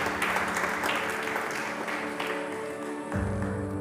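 An audience applauds at the Bolsa Amélia de Mello award ceremony, a continuous round of clapping that thins slightly before a fresh swell near the end, with no speech over it.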